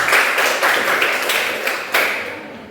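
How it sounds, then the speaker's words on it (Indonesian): Classroom applause for a student group after their presentation: a close, steady patter of many hands clapping that swells in waves and trails off near the end, with no talking over it. "Tepuk tangan buat kelompok 3."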